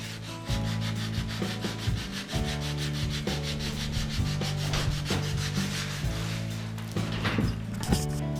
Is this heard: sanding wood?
yes